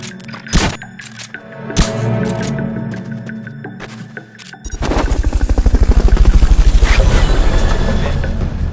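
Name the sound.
Fulton recovery helicopter in Metal Gear Solid video game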